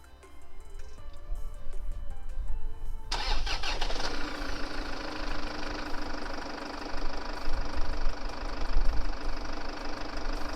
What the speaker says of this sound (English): you start the engine and it goes off after a couple of turns